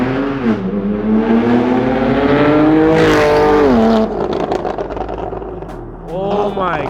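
Porsche 911 Carrera 4S flat-six engine screaming loudly as it revs hard on a flyby, pitch climbing through gears and sweeping past up close, then fading before another rising rev.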